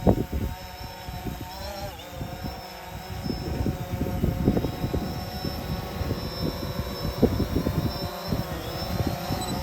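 A small multirotor drone hovers and descends toward a helipad during a training flight, its buzzing rotor whine wavering in pitch over gusty outdoor wind noise, moderately close and alone.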